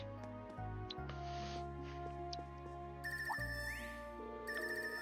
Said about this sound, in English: This ringtone.